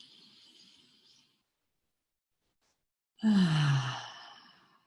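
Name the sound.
big breath in and out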